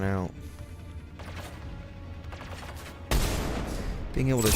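Gunfire in the Mass Effect 3 game: steady crackling bursts of weapon fire and impacts with a loud heavier volley near the end, while people talk over the shooting.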